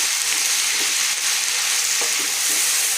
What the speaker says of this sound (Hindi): अब इसको हम अच्छी तरह से भूनेंगे 15 मिनट